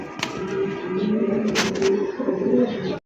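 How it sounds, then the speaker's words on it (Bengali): Low, steady cooing from large pigeons nearby at a pigeon farm rolls on in repeated throaty phrases, with a few sharp clicks and rustles in the background. "বিশাল সাইজের দুইটা কবুতর আছে"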